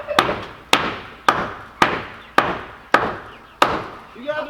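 Seven sharp, evenly spaced hammer blows strike wood up close, each ringing briefly before the next, with a faint voice at the end.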